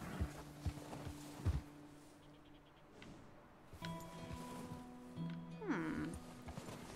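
A horse walks in Red Dead Redemption 2, with a few scattered hoof clops and thuds that sound fairly close, set among game music tones and ambient noise.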